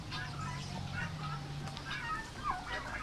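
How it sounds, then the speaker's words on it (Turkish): Partridges, roosters and chickens in a poultry section give a mix of clucks, gobble-like calls and honking squawks at moderate distance, with faint talk mixed in. "keklikler, horozlar, tavuklar. Burası tavuk bölümü."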